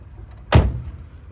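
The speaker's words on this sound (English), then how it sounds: "Doors close beautifully." A single solid thump of a 1971 Chevrolet Nova car door shutting, close by, with a short dull ring afterward over quiet background.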